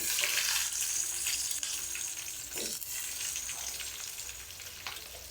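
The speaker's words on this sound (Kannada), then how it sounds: "ಈರುಳ್ಳಿನ ಚೆನ್ನಾಗಿ ಫ್ರೈ ಮಾಡ್ಕೊತೀನಿ" Onions, green chillies and garlic frying in oil in a wok-style pan, a broad hissing sizzle that stays loud and steady, with a brief scrape of stirring partway through.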